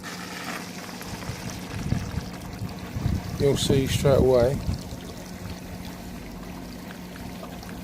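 Pool filter pipe with water pushed through so it draws in air and aerates: a continuous gurgling, bubbling water flow that swells in the middle, with someone talking over it.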